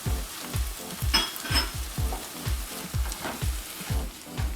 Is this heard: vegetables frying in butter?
yes